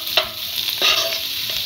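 Onions sizzle steadily in a hot pan of oil, with a spoon scraping and stirring them in a few soft strokes close by.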